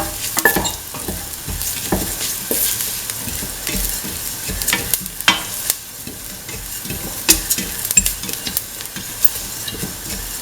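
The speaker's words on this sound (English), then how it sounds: "Start putting the seeds in the clarified butter." Cumin seeds sizzle and crackle in hot clarified butter, a steady frying hiss with sharp pops and stirring scrapes running throughout, close and fairly loud with no talk.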